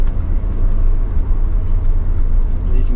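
The turbocharged engine of a Mercedes CLA250 gives a low, steady, droning rumble close by for a few seconds, with faint cabin and road noise and no sharp revving peaks.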